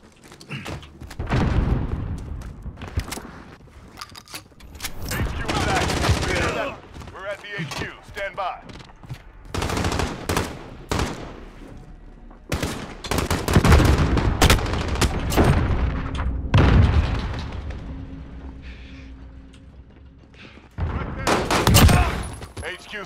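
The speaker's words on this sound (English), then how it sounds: "I shot this bitch in his fucking leg and nothing happened." Repeated loud bursts of gunfire in Call of Duty Modern Warfare 2019, clustered volleys and single shots spread throughout, with a player talking between and over them.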